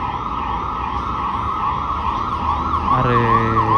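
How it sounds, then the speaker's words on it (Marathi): A fire engine siren sounds loudly in a village street, its steady wail giving way near the end to a second, oscillating siren as the vehicles pass close by, with engine rumble underneath and no talking. "अग्निशामकची गाडी आहे तर"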